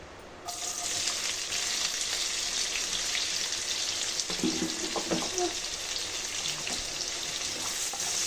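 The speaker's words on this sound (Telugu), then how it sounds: "ఇప్పుడు ఇందులో కట్ చేసి పెట్టుకున్న ఆనియన్స్ని యాడ్ చేసుకోవాలండి" Sliced onions frying in hot oil in a pan with bay leaf and cardamom, a steady loud sizzle that jumps in at the start and runs throughout, with a few faint stirring clinks.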